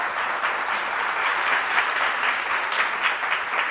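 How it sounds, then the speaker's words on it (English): Sustained applause from a large audience, a dense, even wash of clapping that holds steady throughout. "give me a big round of applause"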